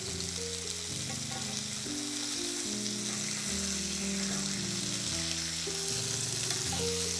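Chicken souvlaki searing in a hot pan, giving a loud, continuous close-up sizzle and crackle under background music, with no talking.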